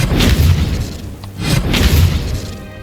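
A spell-casting effect from Hogwarts Legacy gives two loud, broad whooshing bursts with deep booming low end, about a second apart, and no talk over them.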